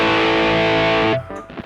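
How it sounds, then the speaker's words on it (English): Loud, sustained high-gain distortion from a TC Electronic Nova Drive pedal (programmable Rat and Tube Screamer style) on electric guitar, a thick held chord that cuts off abruptly, leaving a brief quieter tail. "high gain distortion"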